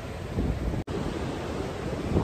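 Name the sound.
sea waves on the shore at Alibaug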